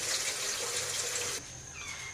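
Water pours into a cooking pot of boiled chana dal lentils for haleem, a steady splashing stream that cuts off partway, leaving a quieter trickle with no talking.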